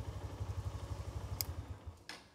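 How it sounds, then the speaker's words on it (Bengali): A motorcycle engine thrums faintly past on a flooded local road, with a low, regular chugging pulse that fades as it goes by. "মোটরসাইকেল যাচ্ছে পাশ দিয়ে,"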